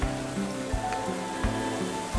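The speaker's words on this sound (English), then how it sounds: "Maybe the rain will go away." Steady rain falls in the Planet Coaster 2 theme park game, a continuous soft patter of drops hitting surfaces, with faint musical tones and occasional low thuds underneath.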